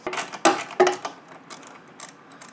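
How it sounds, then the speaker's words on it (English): Temporary bolts being backed out while a trailer hitch is fitted to a 2015 Golf Sportwagen, a few sharp metallic clicks and clanks early on, then faint scattered ticks. "now that the rest of the bolts are in, we can back out the temporary bolts that we put in"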